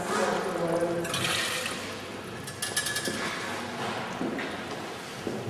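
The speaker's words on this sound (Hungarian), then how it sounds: "Megtelik a ajka vízzel" Water rushes into a stone fountain statue's mouth at the Hellbrunn trick-fountain palace in Salzburg. It is a steady, full splashing gurgle, close and fairly loud throughout.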